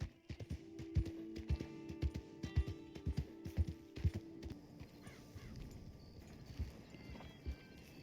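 Hooves of a Perlino Turkoman horse in the video game Red Dead Online clip-clop in a steady, fairly close rhythm, with a brief whinny and a low sustained tone during the first half before the hoofbeats carry on alone.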